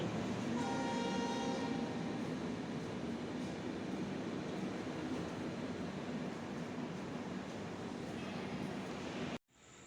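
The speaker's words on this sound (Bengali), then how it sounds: "আর এদিকে একটা ট্রেন আসছে।" A train rolls into an empty station platform with a loud, steady rumble of wheels, and a horn sounds near the start before everything cuts off abruptly.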